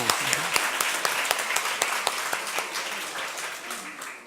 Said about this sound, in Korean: 우리 하나님께 한번 영광의 박수를 돌리시겠습니다.